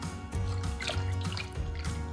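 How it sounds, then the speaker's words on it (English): Hot vegetable water is poured into a roasting pan holding crumbled chicken stock cubes for gravy, giving a steady, close liquid splash and trickle that runs continuously for a couple of seconds. "Stir together whilst pouring in hot vegetable water, about 3 cups or 720ml."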